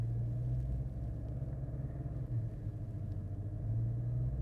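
Car being power braked with its power steering grinding, a steady low rumble and droning vibration with a faint wavering growl, close and continuous over a few seconds without talk.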